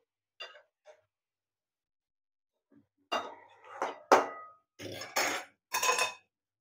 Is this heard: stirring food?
yes